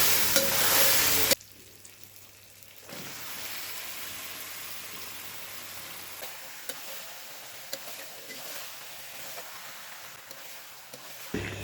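Chicken pieces fry in a pan of oily, well-cooked spiced masala. A loud hissing burst at the start settles into a softer, steady sizzle with occasional stirring clicks.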